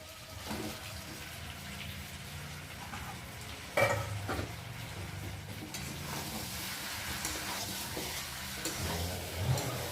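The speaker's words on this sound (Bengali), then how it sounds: "দিয়ে একসাথে ভালোভাবে কষিয়ে আরও কষাবো" Chicken with tomato and fried potatoes is sautéed in a pan, making a continuous sizzle and bubbling. Intermittent stirring scrapes sound close by, with one louder clatter near the middle, and there is no talk.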